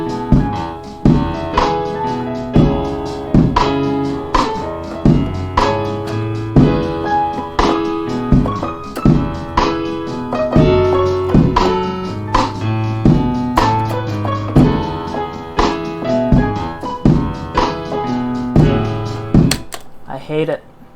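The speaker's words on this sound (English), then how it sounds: "Alright, let's layer a piano on there." A virtual piano from Kontakt is layered over a full dense mix, with steady rhythmic notes and chords running throughout at a loud level.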